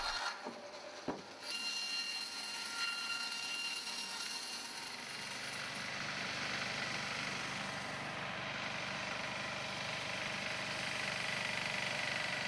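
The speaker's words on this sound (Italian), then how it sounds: "Nicola invece utilizza una sega portatile con motore a scoppio, risalente agli anni 60." A 1960s portable saw with a combustion engine runs through wood: sharp knocks and a hiss at first, then a sustained, buzzing cutting roar that carries on steadily to the end.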